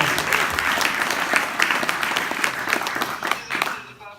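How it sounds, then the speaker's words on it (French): Audience applause at a French short-film festival awards ceremony after a poster prize is announced, steady dense clapping that fades out near the end. "Tu as encore les applaudissements."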